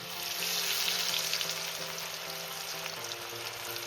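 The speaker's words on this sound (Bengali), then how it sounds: "পেঁয়াজিগুলো আমি তেলের মধ্যে ছেড়ে দেবো আমি কিন্তু একসঙ্গে বেশি ভাজবো না দুটো তিনটে করে ভাজবো" Lentil and onion fritters sizzle steadily in hot oil, a dense continuous crackle with small pops, close and fairly loud, no voices.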